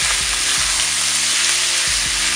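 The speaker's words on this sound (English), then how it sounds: "you're just gonna sear this off for about 5 minutes" Chicken sears and sizzles in a hot pan, a steady loud frying hiss throughout with a few soft scrapes as it is stirred, no voices.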